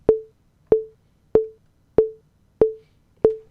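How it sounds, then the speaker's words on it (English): A metronome clicks six times at an even, moderate tempo of 95 beats per minute, each tick sharp and close with a brief ringing tail, alone against silence. "let me get my metronome out here"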